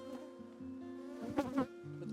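Honey bees buzz steadily at an apiary hive while new bees are installed, a close, continuous drone with a few louder swells from bees passing near.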